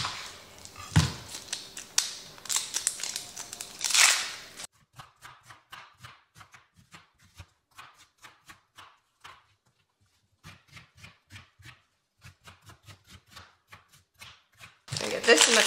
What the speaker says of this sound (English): I'm gonna get this diced up real quick.